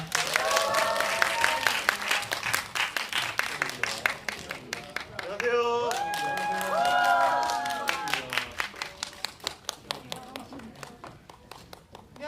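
A cinema audience at a film's stage greeting bursts into applause, a dense stretch of many hands clapping close by, while a presenter talks over it through the middle.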